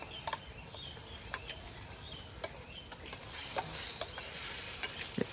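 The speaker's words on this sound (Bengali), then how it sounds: "খুন্তি নাড়তে পারছো না তো" A metal spatula scrapes and taps in a wok while chilli paste and spices are stirred for mutton biryani, sharp intermittent clinks over a steady low sizzle, close by, with no talking.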